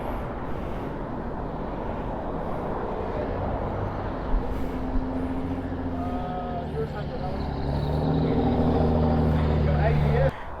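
A Vespa 360 scooter engine idling nearby, a steady low rumbling drone that grows louder toward the end as it revs, with people talking over it.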